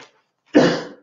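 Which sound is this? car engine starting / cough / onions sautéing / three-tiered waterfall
cough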